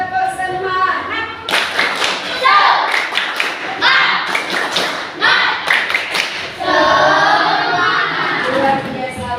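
A school class of sixth graders performs a rhythmic clapping chant in the classroom, bursts of sharp, patterned claps mixed with children's shouted voices, loud and close, with a final sustained group shout.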